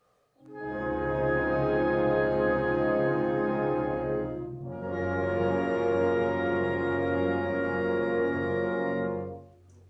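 A sustained, rich harmonic chord rings steadily for several seconds, then shifts to a second chord that holds and fades out.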